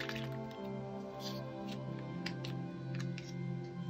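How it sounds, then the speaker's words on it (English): Drops of gamboge watercolor paint fall from a dropper bottle, a few soft, quick wet taps over a background of sustained tonal music. "And two drops of the 2H gamboge."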